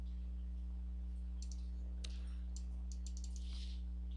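Several sharp mouse clicks, spaced irregularly, from a computer mouse used in Pro/Engineer Wildfire 4 CAD software, heard over a steady low electrical hum with no talking.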